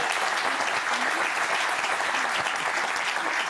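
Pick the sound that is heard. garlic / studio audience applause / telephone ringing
studio audience applause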